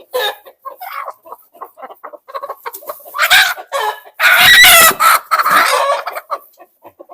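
Backyard hens cluck loudly and close, building from scattered soft clucks into dense, excited squawking bursts with a crowing-like cry among them.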